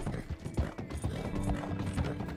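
Horse hooves clip-clopping at a steady rhythm while riding through dense fog in Red Dead Redemption 2, close and fairly quiet over a low ambient bed.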